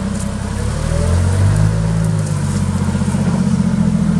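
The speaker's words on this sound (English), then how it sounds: "It's running a Nissan H30 inline 6 engine." A TCM FCG36N5 cushion-tire forklift rated at 8,000 lb, powered by a Nissan H30 inline six, runs loud and close with a steady low engine drone and slight revving, no talk over it.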